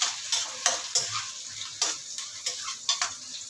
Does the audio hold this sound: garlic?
yes